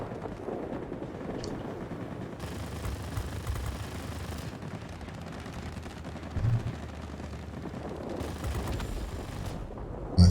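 Machine-gun bursts from aircraft in a World of Warplanes dogfight, an F4F Wildcat downing an F2A, rattling in two dense stretches over a low engine drone, with a short thud near the end.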